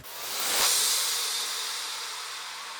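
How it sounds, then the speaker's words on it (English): A white noise impact layered with a crash cymbal in a future bass production, opening with a sharp hit and then a long bright hissing wash that decays slowly and stays loud to the end. "Crashes and white noise impact."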